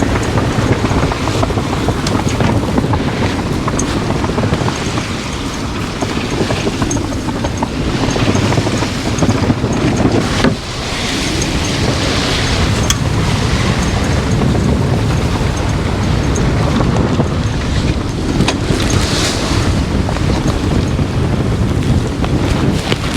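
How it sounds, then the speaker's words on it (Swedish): Strong wind roars steadily across the microphone while sailing a boat, with broadband rushing, buffeting gusts and water noise filling the whole stretch, loud and continuous with no talking. "Och nu har vi bra vind här."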